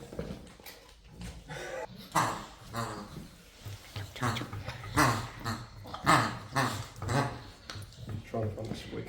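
A dog growls in rumbling bursts while chewing a squeaky toy, loud and close, with someone talking over it at intervals.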